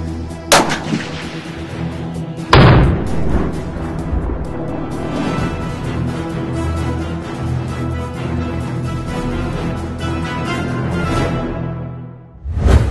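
Long-range precision rifle shots on an outdoor range: two sharp, loud reports a couple of seconds apart, each followed by a long rolling echo, then another shot near the end after a quiet stretch.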